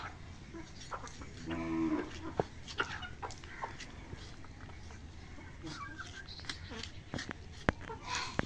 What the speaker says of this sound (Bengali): গাই গরু